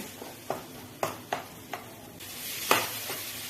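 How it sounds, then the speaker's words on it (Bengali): Curry spices frying in a pan for a chicken curry, dry after the water has cooked off: a soft sizzle broken by about seven distinct scraping stirs of a spatula, close and fairly quiet. "জলটা একদমই শুকিয়ে গেছে, আর একটু তাই ভালো করে মশলাগুলো এবার ভেজে নেব।"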